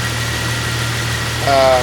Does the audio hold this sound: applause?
no